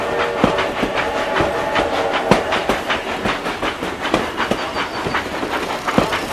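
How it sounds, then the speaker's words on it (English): A cartoon train rolls past close by, its wheels clacking in a steady rapid rhythm over the rails, with no voices. "This is the longest train in the world."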